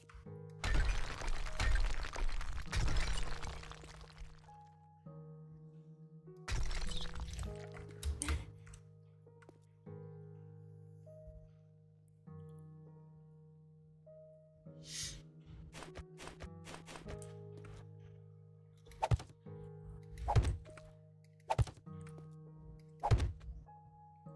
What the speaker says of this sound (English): I'm sitting here destroying a floor